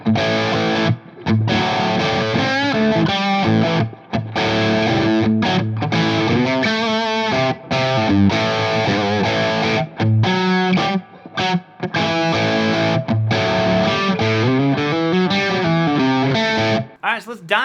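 Distorted electric guitar played through an amp with reverb and effects, sustained chords and notes ringing continuously with short pauses.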